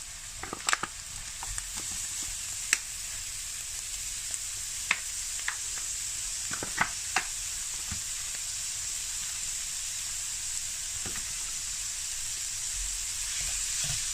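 Ground pork sizzles steadily in a hot pan for a pasty filling, with scattered clicks and scrapes of stirring and breaking up the meat, close and continuous with no talk.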